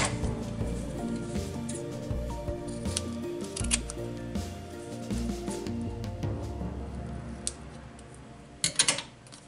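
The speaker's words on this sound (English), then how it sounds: "Somehow I have excess, so I'm just going to cut it loose." Scissors snip excess material loose during a journal door assembly, giving crisp, irregular clicks and cuts close by over soft background music, with a quick cluster of snips near the end.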